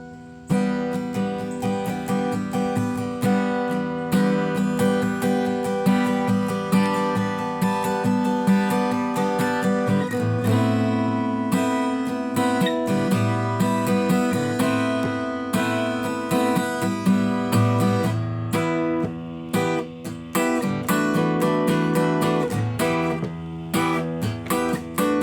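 Electric blues guitar solo, played slowly with sustained bent notes and dense phrases, loud and continuous throughout.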